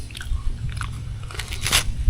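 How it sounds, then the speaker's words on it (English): Close, crisp bites and crunchy chewing on a snack at a campground, a few sharp cracks over the steady munching in a short burst. "One more bite."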